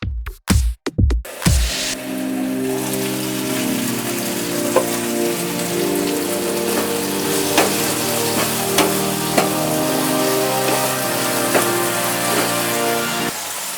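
Chopped tindora (ivy gourd) pieces sizzle and fry in a pan with a steady crackling hiss, a few sharp clanks at the start and occasional stirring scrapes and pops throughout.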